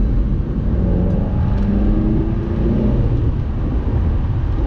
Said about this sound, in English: see if you can hear the K&N air filter in a minute.